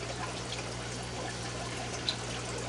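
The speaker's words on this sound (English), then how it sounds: "Time I'm getting my fish tanks filled up with water." Water running steadily into fish tanks in a fishroom, a constant close trickling and pouring wash with no pauses, over a low steady hum.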